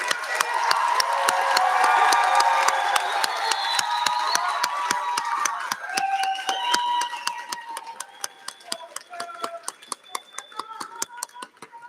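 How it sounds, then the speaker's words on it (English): Applause and scattered cheering from a crowd of guests at a UCLA International Institute commencement ceremony, loud and dense at first, then thinning into individual claps and a few whistles toward the end. "please acknowledge your guests here tonight with a big round of applause in appreciation"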